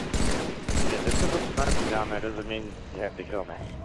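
Gunfire cracks across the map in a multiplayer shooter match on Narrows, sharp shots repeating through the clip in bursts, with a voice talking over the later part.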